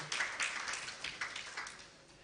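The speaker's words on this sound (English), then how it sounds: "Please, one more time, a round of applause for GBF" An audience applauds at a plastics-economy launch event in Nigeria, a short burst of fairly faint clapping that swells in small waves and then thins out.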